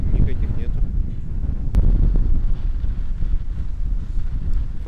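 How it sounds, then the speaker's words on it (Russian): Strong wind on the Baltic Sea coast at Klaipėda, Lithuania, buffets the microphone in loud, rumbling gusts, with a brief sharp knock partway through. "Просто невероятно сильнейший ветер."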